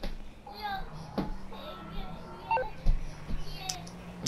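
Phone keypad dialing tones in GTA V, a few short electronic beeps spaced irregularly over a quiet game background, with young voices talking.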